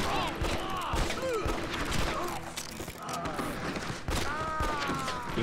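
Gunfire from the Xbox game Red Dead Revolver, as several rapid bursts of shots and thuds, mixed with game music and the whine of passing bullets, at a moderate level throughout.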